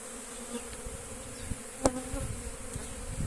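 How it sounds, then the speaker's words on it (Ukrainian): Many honeybees buzzing at an apiary in a steady, low drone, with individual bees flying close past now and then. "працюють бджілки. Приємний звук на пасіці."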